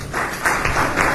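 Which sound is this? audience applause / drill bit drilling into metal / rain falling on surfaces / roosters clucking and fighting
audience applause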